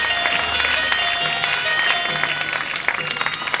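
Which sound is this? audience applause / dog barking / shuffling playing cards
audience applause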